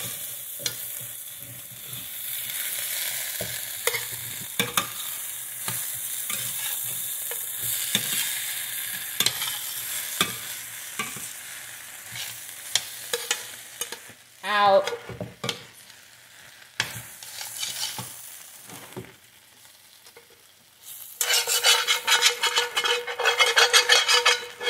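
A country breakfast is stirred in a heavy frying skillet: repeated close scraping and clinking strokes run over a steady sizzle, with a louder, brighter burst of frying near the end and no talking.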